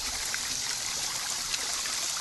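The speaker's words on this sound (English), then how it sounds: "So here's another view of my pond. Here's the waterfall." Garden pond waterfall splashing and trickling steadily, a continuous bright rushing wash of falling water heard up close, with no voices.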